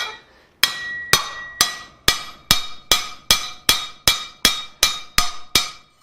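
Rivets are hammered on an anvil while a coal shovel is forged, giving about eleven sharp ringing metallic strikes in a steady even rhythm, each decaying before the next, close and loud with no talk.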